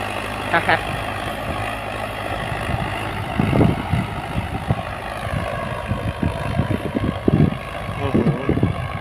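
A Ford 6640 tractor ploughing a rice field gives a continuous diesel engine drone at middle distance, while someone talks over it in bursts.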